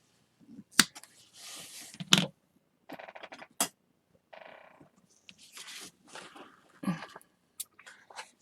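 Scissors snipping through yarn on a loom-knit mug rug coaster, a handful of sharp close crisp cuts separated by pauses and soft rustling of fiber and handling.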